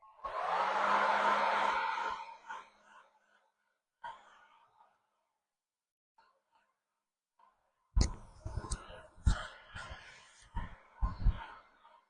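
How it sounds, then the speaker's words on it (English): A hair dryer blows on Peanuts mouse pads in a close, loud burst for about two seconds, then goes quiet. Scattered handling clicks and rustles follow. "Now I'm going to dry these a little bit."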